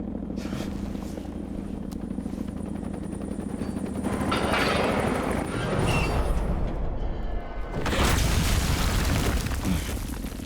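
A bomb goes off in the video game Batman: The Enemy Within as a loud roaring blast that swells midway and hits again near the end. A droning, rotor-like rumble and crackle run underneath, with no speech.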